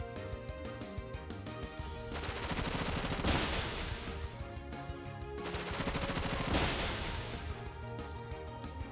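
Rapid-fire Bullet Seed attack from Pokémon Shining Pearl, a dense rattling burst of seed shots repeated in two long volleys over a steady game music backdrop.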